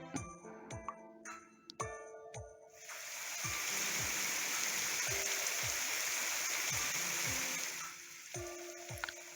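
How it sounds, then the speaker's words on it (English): Steady rain pours down in the Fate/Grand Order game scene, a dense, even hiss that swells in after a few seconds and holds, with sparse drips and ticks before and after. "This rain just came out of nowhere"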